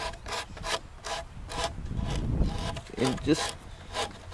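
Coped crown moulding is hand-sanded with a small piece of 80-grit sandpaper, producing rhythmic back-and-forth rasping strokes up close, with a few quiet spoken words over the scraping.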